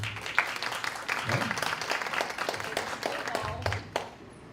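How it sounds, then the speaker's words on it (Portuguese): People at a student assembly debate give a round of clapping, scattered and uneven, fading out after a few seconds, with a voice speaking briefly underneath. "Vamos dar uma salva de palmas para a Petrolina, então"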